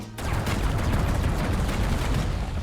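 Rapid, continuous gunfire from a 1911 pistol in Black Ops 7 Zombies, a dense, loud stream of overlapping shots with no pauses, filling the whole stretch alone without talk.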